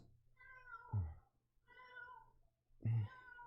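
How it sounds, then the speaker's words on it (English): A cat meows three times in succession, each call clear, close and drawn out, with short pauses between them and no talking. "Do you see how he just comes and just meows"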